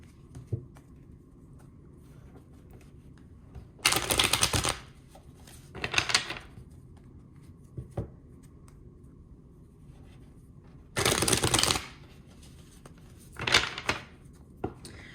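Tarot cards being shuffled and drawn, heard as several loud, bursty riffling and slapping episodes of about a second each, separated by quiet gaps with occasional small taps.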